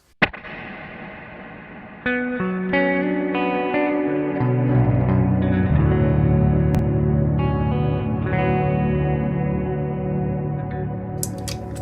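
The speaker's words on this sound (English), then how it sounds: "the pitch echo I also set to be kind of like a more slapback echo, to give more this kind of like spring reverb feeling" An electric guitar runs through a Line 6 HX Stomp with pitch echo set as a short slapback echo, giving a spring-reverb feel: a picked note, then sustained chords ringing with quick repeating echoes and a wide wash of reverb, played alone.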